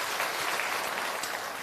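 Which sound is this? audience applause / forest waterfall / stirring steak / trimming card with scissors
audience applause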